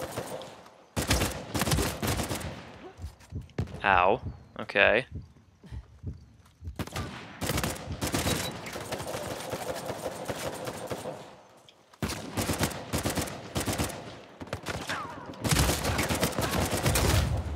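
Gunfire in Uncharted 4 multiplayer, loud bursts of rapid automatic shots in repeated volleys with short gaps between them, and a player briefly speaks midway through.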